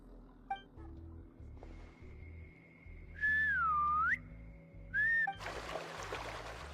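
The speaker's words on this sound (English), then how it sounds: "So dog whistle, huh?" A high, sliding whistle tone rises and falls twice over steady background music in the Genshin Impact video game, with a burst of noise at the end.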